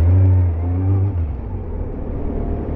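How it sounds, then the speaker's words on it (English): A Ferrari sports car revs and drives past on a busy city street, a loud close engine roar with strong low harmonics that fades into a lower whirring rumble as it moves away. "A Ferrari, one more."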